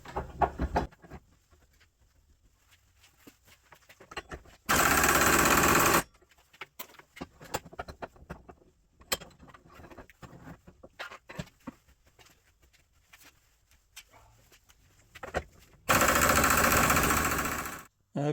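An air impact wrench with a big socket hammering on a seized part in a garage: two long, loud, sustained bursts of rattling impacts, separated by quieter clatter and handling noise.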